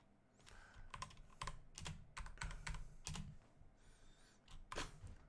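Java code being typed on a computer keyboard: close, quiet clusters of key clicks in irregular bursts, with short pauses between them and no voices.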